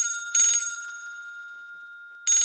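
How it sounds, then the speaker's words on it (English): Telephone rings in a radio play. Two bright, sharp bursts of an old-style bell ring sit close and loud, with a lingering tone between them and silence otherwise. "The phone rings."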